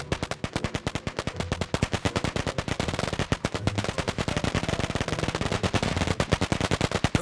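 Fireworks in the video game Rust pop off in a rapid, relentless barrage of sharp cracks, loud and close, keeping up a fast, even rhythm for several seconds with no talking.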